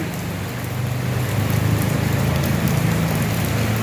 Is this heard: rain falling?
yes